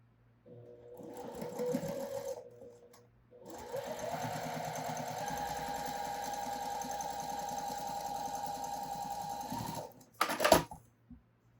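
Sewing machine stitching a quarter-inch seam on a hare quilt block, two bursts of steady motor whirr with rapid needle clatter, close and loud, the second run long and even before a few sharp clicks.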